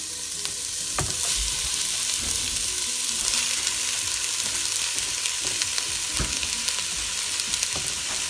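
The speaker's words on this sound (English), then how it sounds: "throw in the onion, the garlic, into the pan" Onion and garlic sizzle steadily in hot olive oil in a pan for a beef madras, a dense close frying hiss with occasional stirring knocks and scrapes, no voices.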